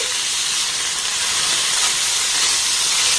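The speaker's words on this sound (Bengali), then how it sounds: "পনিরটাকে একটু নাড়াচাড়া করে ভেজে নেব" Paneer pieces fry in hot oil while being stirred, producing a loud, unbroken, hissing sizzle throughout.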